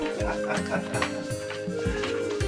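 A dog barks and yips repeatedly in a domestic setting, several short sharp barks spread across the moment, mixed with background voices and room noise.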